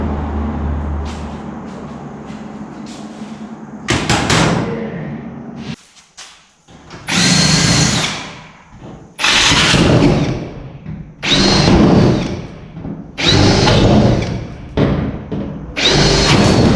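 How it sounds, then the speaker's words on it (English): A power drill drills out rivets in repeated bursts, about seven loud runs separated by short pauses, close and harsh. "when you drill rivets out"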